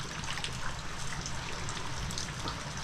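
Water pours out steadily on a job site where painters and fiberglass workers are busy. The splashing, trickling flow is continuous and close, and runs for a few seconds without any clear talking.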